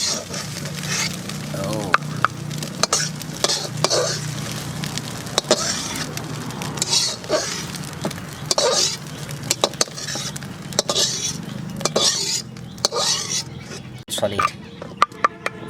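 Egg sizzling and frying in a hot wok as it is stirred, with steady crackle and scraping throughout, while people talk over it in an outdoor tribal-style cooking setting.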